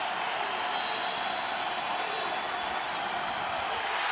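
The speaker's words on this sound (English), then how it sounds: "Crowd, who's been quiet most of the second half, comes to life" Basketball arena crowd at an NCAA Baylor vs Wichita State game roars and cheers after a Wichita State shot, a dense, sustained wash of noise with no breaks, heard from a distance.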